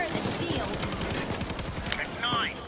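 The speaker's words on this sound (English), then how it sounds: "Oh my god, I love these dual shotguns so much." Dual shotguns blasting in the Payday heist game, a rapid run of sharp, loud gunshots packed closely together, with a couple of brief higher effects near the end and a voice murmuring underneath.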